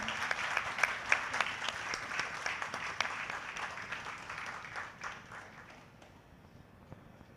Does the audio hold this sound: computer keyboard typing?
no